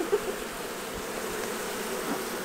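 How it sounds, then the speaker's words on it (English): Honey bees buzzing and fanning in a hive kept for short-term queen banking, a close, continuous drone with no pauses and no talk. "But look at those bees right there, how they're running around. They're fanning"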